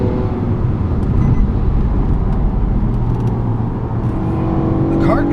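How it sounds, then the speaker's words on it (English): A 2017 Nissan Maxima SR Midnight Edition engine revs steadily and loudly up toward the redline, with rising tones stepping through simulated upshifts near the end, a continuous drone up close. "we do have simulated upshifts at the red line here"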